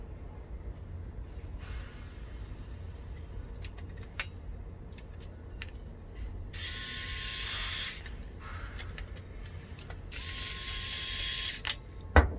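Screws being fitted into a Philips air fryer during reassembly in a workshop: quiet ratcheting clicks and small mechanical ticks, with a couple of longer hissy scraping bursts and a sharper knock at the end.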